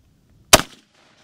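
A single sharp rifle shot from a .35 Remington at close range, a loud crack followed by a short decaying echo, then silence.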